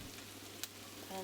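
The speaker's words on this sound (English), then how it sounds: "I'm going to return the pan to the stove, and I'm going to add onions and shallot" Onions and shallot sizzle steadily in a pan on the stove, a soft continuous frying hiss close by with a light clink midway and a slight rise at the end.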